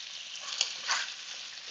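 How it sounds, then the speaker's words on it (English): Steady broadband hiss and crackle of Arctic char fish frying in a pan, with a couple of brief louder spits, no voices. "that is why we are actually frying it at the beginning"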